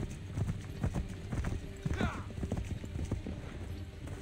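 Rapid hoofbeats of a galloping horse in Assassin's Creed 3 Remastered thud in an uneven rhythm, with a brief whinny partway through.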